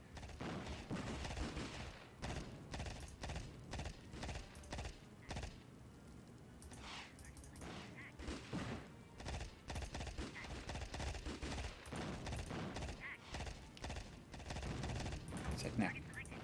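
Bursts of machine gun fire in an Amiga war game, rapid crackling volleys repeating throughout amid explosions and other game sounds, with a voice talking over them at times.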